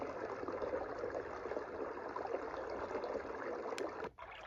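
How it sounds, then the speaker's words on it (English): A bedside sound machine runs its stream-in-a-cave track: a continuous rushing, trickling water texture at steady moderate level, cutting out suddenly with a brief click near the end, no talking. "12th sound is stream in the cave."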